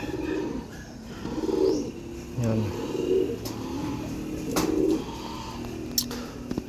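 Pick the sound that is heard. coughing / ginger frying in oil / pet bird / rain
pet bird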